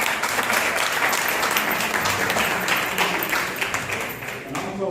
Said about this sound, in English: So let's give everybody one more round of applause.